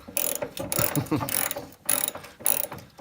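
A ratchet wrench loosens the A-arm and torsion bar bolts on a Porsche 914. It gives several bursts of rapid, close clicking separated by brief pauses as the wrench is swung back and forth.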